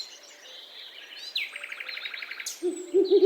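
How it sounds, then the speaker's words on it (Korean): An owl gives a few low hoots near the end, following a stretch of bright chirping forest birds in the background. "owl"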